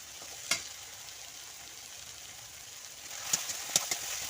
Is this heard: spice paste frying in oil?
yes